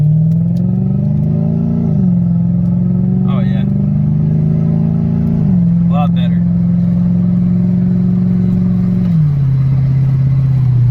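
A car engine runs steadily and rises and falls in revs while driving on a short cruise, loud and continuous throughout, with someone speaking briefly over it.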